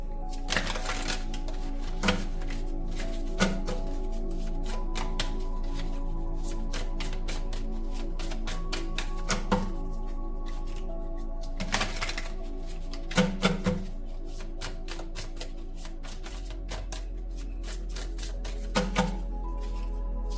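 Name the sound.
tarot cards being laid out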